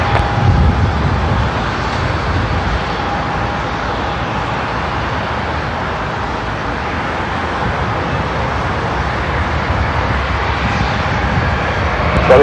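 Omni Air charter jet 2187 Heavy takes off from runway 34 right at Seattle-Tacoma airport: a loud, unbroken engine roar that stays steady throughout and swells slightly at the end.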